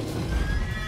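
A horse in The Witcher 3 gives a short, breathy whinny, close and moderately loud, lasting under a second with faint hoof movement beneath.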